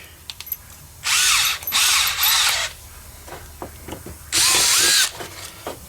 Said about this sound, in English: Now I'm going to drill this last hole right there.